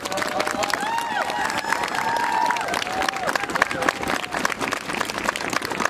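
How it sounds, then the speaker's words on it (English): At a Rosie the Riveter Day manufacturing event in Lansing, a crowd applauds to thank military veterans. Steady clapping and some cheering mix with voices and background chatter throughout. "could you raise your hand and let us applaud you and thank you for your service"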